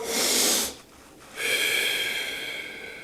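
Heavy, forceful breathing during a weight-training exercise: a loud rushing exhale, a brief pause, then a long noisy inhale, close and alone.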